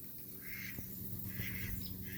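A rooster feeds alongside young chicks on a homestead farm among ducks, with several short, nasal squawking calls rising over a steady, faint outdoor background.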